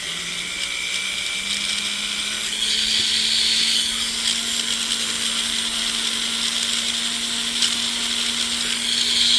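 A steady, high-pitched whine of a power sander grinding out deep scratches before polishing, running continuously at close range with a slight shift in pitch partway through and no voices.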